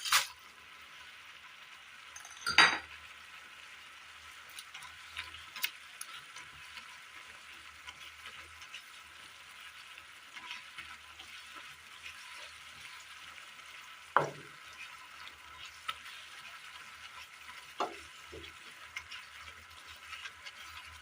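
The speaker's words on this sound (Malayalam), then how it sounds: "ഈ ഗ്രേവിയിലേക്ക് ഈ പപ്പടം ഇട്ട് കൊടുക്കാം." Pappadam is dropped into a simmering, oily Kerala curry gravy, giving a soft, low bubbling hiss with a few sharp splashes and spatters scattered across the stretch, and no one speaking.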